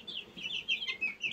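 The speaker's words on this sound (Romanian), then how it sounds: "găini de ornament" Several ornamental chickens cluck and chatter in quick, overlapping bursts, close by and steady, with no one talking.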